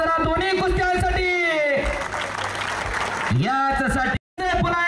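A crowd at an Ahmadnagar wrestling (kusti) tournament bursts into brief clapping for about a second and a half, sandwiched between a loud announcer's amplified voice before and after.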